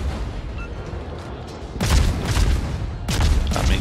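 Khabarovsk destroyer guns in World of Warships firing rapidly, with loud booming salvos bursting in around two seconds and again near three, over a constant rumbling battle backdrop.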